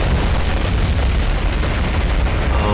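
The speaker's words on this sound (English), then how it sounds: "they release their bombs." Bombs exploding in the naval combat game War on the Sea, as attacking dive bombers release their loads on warships: continuous loud, dense booming and rumbling blasts with a heavy low end, steady throughout with no talk.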